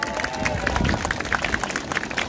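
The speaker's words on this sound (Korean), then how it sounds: "박수 한번 해주세요. 박수." Audience applause at a New Year gathering of political supporters, a dense continuous patter of many hands clapping close by, fairly loud and steady through the short stretch.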